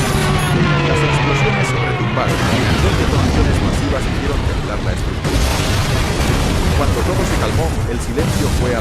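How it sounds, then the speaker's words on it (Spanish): Massive detonations aboard the Japanese battleship Yamato: loud, continuous rumbling blasts and booms fill the whole stretch, with a heavier burst near the middle, dense and close with no pause. "Las explosiones retumbaron y 2 detonaciones masivas hicieron temblar la estructura."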